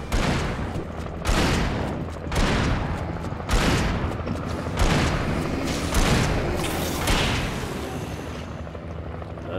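A shotgun fires in the Alan Wake video game at a riverside power plant, several heavy booming blasts at uneven intervals amid rumbling game noise, loud and close.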